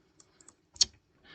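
A few soft, sparse key clicks on a computer keyboard as a Git command is typed, with one sharper, louder keystroke near the middle and a brief hiss at the end, quiet and close.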